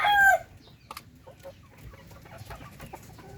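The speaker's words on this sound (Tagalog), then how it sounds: "chicken yung ating mga alaga. Pag lalo na pagka magpapakain tayo." Pet chickens at feeding time on a farm, with one loud close cluck or squawk at the start, followed by scattered faint clucks and soft rustling.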